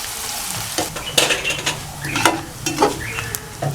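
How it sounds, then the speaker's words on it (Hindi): Onions sizzle as they fry in a pan for a dhaba-style egg masala. A spoon scrapes and stirs through them in irregular strokes, with occasional clinks of the utensil against the pan, all close and steady without talk. "थोड़ा सा इनको फ्राई करेंगे प्याज़ों को"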